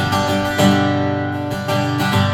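An Adaltis LSS 41CN acoustic-electric guitar played through an amplifier, strums ringing close and full, with a few quick chord changes and sustained tones, no talking.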